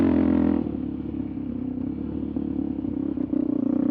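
Motorcycles pulling away through sand on trails near Moab, a steady engine drone with rattling and scraping, fairly close and loud, the note shifting as the bikes ride off, with no talking.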